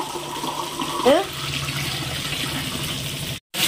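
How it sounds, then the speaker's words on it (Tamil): Mutton stock water pours into a pot of rice for biryani, a steady splashing stream with a short bubbling gurgle partway through, close and continuous until a sudden brief cutoff near the end. "அதுக்கு 4 கப்பு தண்ணி ஆட் பண்ணிக்கிறேன். இது மட்டன் வேக வச்ச தண்ணி."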